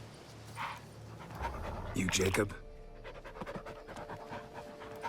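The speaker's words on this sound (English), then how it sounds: "it's a dog." Dog panting with a few short barks and whimpers in the game Witcher 3, mixed with in-game speech and background sounds.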